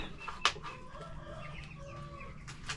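Chickens cluck in short, scattered calls at close to moderate range, set against a steady background hum with no talking.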